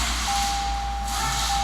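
A 2018 Toyota C-HR powers on, a steady electronic chime tone sounding over a low, continuous hum inside the cabin.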